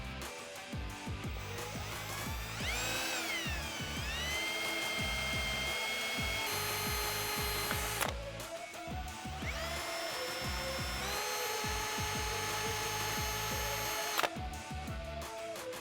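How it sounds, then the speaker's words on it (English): A power drill fitted with a smaller bit bores a pilot hole while installing a Rough Country 3.25-inch lift kit on a Jeep Wrangler TJ. The motor whines loudly and steadily, its pitch rising and settling in two long bursts. "we can drill a pilot hole with a smaller drill bit"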